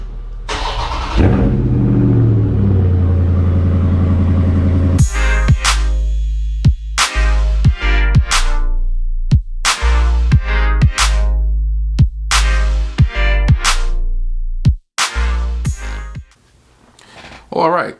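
A Dodge Charger engine starts up, then rumbles and revs in repeated loud bursts cut off by sharp pauses, close and dominant before it drops to a quieter idle at the end.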